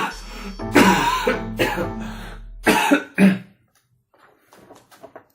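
One person coughs and clears their throat, several harsh close bursts followed by quieter rasping, with speech-like sounds between them.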